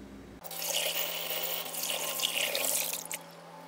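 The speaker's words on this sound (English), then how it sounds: "all I'm going to do is dump this bowl that I made the bedding in into the strainer" Soaked homemade small-pet bedding pours from a bowl into a strainer in a sink, a steady close rush and splash of water that runs for about three seconds and then quickly dies away.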